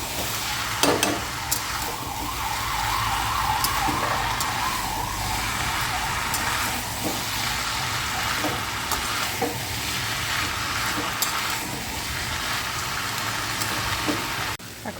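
Peas and soybeans for ghugni stir-frying in a small wok, a steady close sizzle with scraping stir strokes running throughout, some faint traffic noise in the background.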